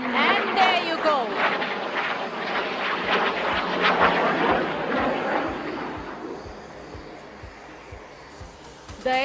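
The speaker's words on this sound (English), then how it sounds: "the aircraft accelerates to a speed of 400 knots to perform few snap rolls right in front of you" Jet aircraft roaring loudly at an air show in Bengaluru as it speeds to 400 knots for snap rolls close to the crowd, a broad engine rush that swells and fades over several seconds with a voice talking over it.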